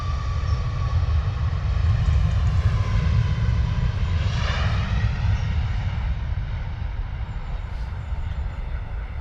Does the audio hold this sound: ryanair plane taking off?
yes